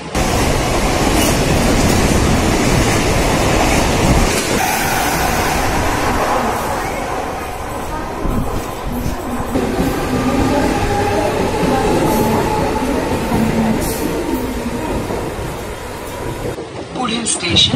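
A Mumbai local train runs steadily with a loud continuous rumble of wheels on rails and carriage rattle, while passengers chatter in the background throughout.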